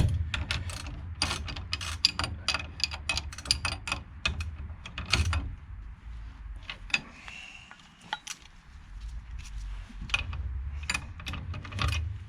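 Bolts are tightened to torque with a wrench during car work, heard as repeated close ratchet clicks and metallic taps in irregular bursts with short pauses between them.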